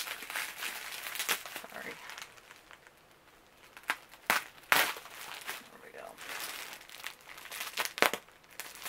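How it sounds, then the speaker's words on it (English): Unwrapping a package padded with bubble wrap and tissue paper: close, continuous crinkling and rustling with sharper crackling snaps scattered throughout, while a person speaks briefly. "They bubble wrapped it and like tissue paper wrapped it and then another type of wrapping"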